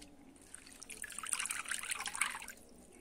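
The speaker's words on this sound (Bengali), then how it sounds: "জলটা কিন্তু আমি এবার ঝরিয়ে নেব।" Water from washed potatoes trickling and draining through a basket into a pot below, a faint close splashing dribble that swells briefly and fades out.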